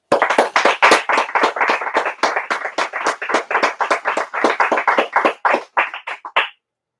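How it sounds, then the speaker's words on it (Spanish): At a book presentation, clapping rings out as a run of sharp, separate claps in quick rhythm, close and crisp, slowing slightly and stopping abruptly after several seconds, leaving silence. "un fuerte aplauso"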